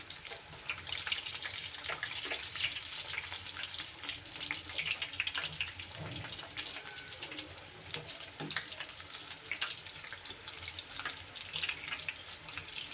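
Aloo kachori deep-frying in hot oil on a low flame: a steady, close, dense sizzle and crackle that runs without a break, with no voices.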